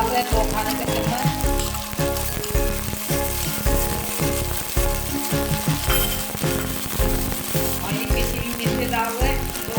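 Ground onions and ginger-garlic paste fry loudly in a hot pan for a mutton kofta dish. The sizzle is dense and crackling, with stirring scrapes and clatter up close.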